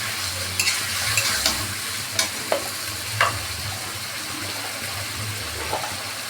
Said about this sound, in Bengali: এখন মশলাটাকে ভালো করে কষা নেব